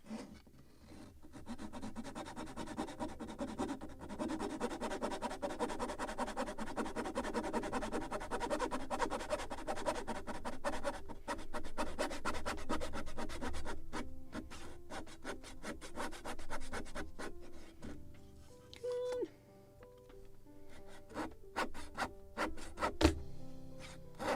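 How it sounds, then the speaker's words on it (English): Hand sanding of small wooden parts for a 1776 gunboat model's gun carriages: steady, close rasping strokes that run almost continuously, loudest early and thinning into sparser, lighter rubs toward the end, with no talk. "Now again, sanding."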